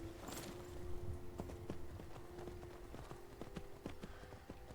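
Horse hooves clip-clop in a steady, even walking rhythm in Skyrim, close by and moderately loud over a low ambient game background.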